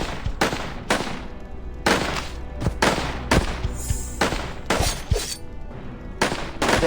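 Guns firing in the video game Reverse 1999, a rapid series of sharp, loud shots in irregular bursts with brief gaps between them, no talking.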